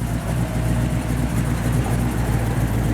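A 1956 Chevrolet 210 Bel Air engine idles with a deep, throaty rumble and steady burble from 2.5-inch dual Flowmaster exhaust, loud and close, no voices.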